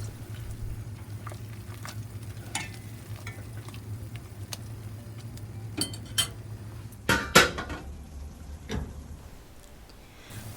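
Fish maw being stirred in a soup pot over medium heat, with a low steady simmering hum under scattered utensil scrapes and clinks, a few sharper knocks of the spoon against the pot near the end.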